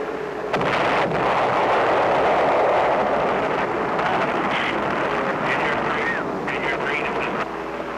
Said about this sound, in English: Bombs, very nicely placed.